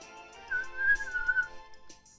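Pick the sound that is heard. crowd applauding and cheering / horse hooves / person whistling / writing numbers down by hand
person whistling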